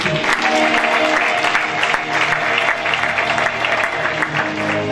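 A church congregation at a worship service claps and cheers together, a dense, steady wash of applause with crowd voices, loud and close throughout.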